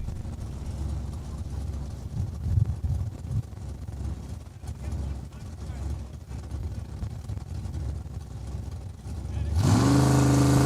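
A Chevrolet Vega drag car idles with a low, rough rumble at the starting line of a Saskatchewan drag strip, then its engine roars loudly near the end, while an announcer talks over the PA.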